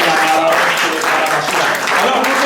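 Loud, dense applause from a church congregation fills the space without pause, mixed with cheering voices and crowd noise throughout.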